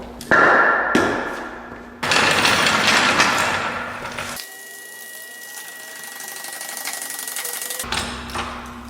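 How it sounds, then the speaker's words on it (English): A heavy wooden 4x4 block is set under a car's back wheel with a few solid, close thuds, followed by a faint steady hum. "Got a big 4x4 here I'm going to put under the back wheel."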